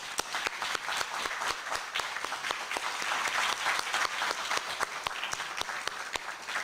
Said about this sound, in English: a round of applause for our scholars